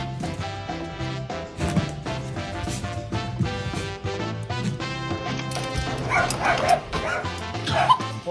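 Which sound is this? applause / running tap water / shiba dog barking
shiba dog barking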